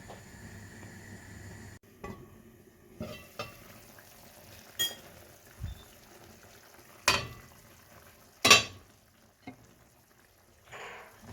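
Chicken and vegetable lasagna filling cooking in a pan over medium to low heat, a quiet low sizzle broken by several sharp clinks and knocks from a lid and utensils spaced a second or two apart.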